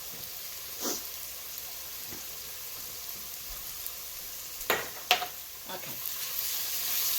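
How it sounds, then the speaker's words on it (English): Onions softening in a pan for Italian-style Swiss chard, a soft low sizzle with a few sharp stirring clatters near the end and one brief spoken word. "the onions are getting nice and soft"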